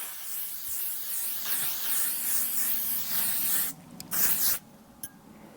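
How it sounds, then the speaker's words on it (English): A heavy-duty drugstore makeup setting spray mists onto a face in a long, steady pressurized hiss lasting several seconds, followed by two shorter bursts, close and fairly loud with no talking. "I'm just going to mist this on."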